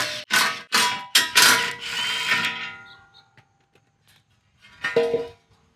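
A power tool spins off the 13 mm bolts holding the thin skid plate on a Jeep Gladiator, in several short, loud, close bursts followed by quiet and one final whirr.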